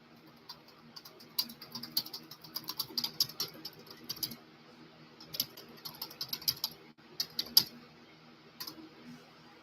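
Fingers tap on a computer keyboard in irregular bursts of quick clicks with short pauses between, close but fairly quiet, with no one talking.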